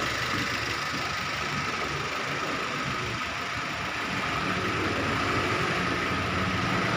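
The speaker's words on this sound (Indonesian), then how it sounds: "Ini setelah diganti oli terlihat tekanan suara mesinnya" A car engine idles steadily just after an oil change, a continuous close mechanical hum with a faint ticking texture running evenly throughout, with no talking.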